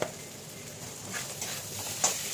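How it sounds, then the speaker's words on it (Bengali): Cumin and ginger paste with chili powder sautés in a pan: a soft, faint sizzle under light stirring scrapes, with a couple of small clinks near the end. "এই যে জিরে আর আদা বাটা দিয়ে দিলাম, এবার কষাতে থাকবো একটু"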